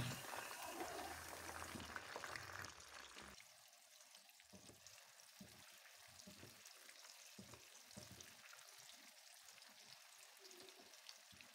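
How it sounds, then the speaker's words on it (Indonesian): Eggplant pieces fry in hot oil with a steady, soft sizzle and crackle that stays faint and continuous, louder at first and then settling into a quieter bubbling hiss. "kita akan goreng terongnya"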